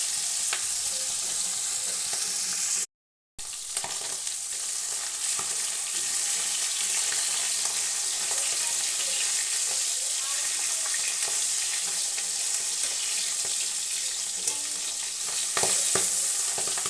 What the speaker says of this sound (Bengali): খুব কড়া করবো না, খুব হালকা করবো না, মিডিয়ামভাবে ভেজে নেব। উল্টে দিয়ে এভাবে ভেজে নেব।